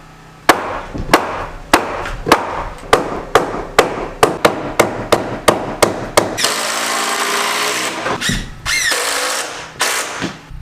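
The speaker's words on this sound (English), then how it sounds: "I did end up putting a countersink screw here and kind of running it down at an angle" Power drill driving countersink screws into a wooden beam while building a ten-foot kitchen ceiling in an early 1900s farmhouse: a series of sharp regular knocks, then a sustained loud whirring drive with squealing pitch changes, close and without talk.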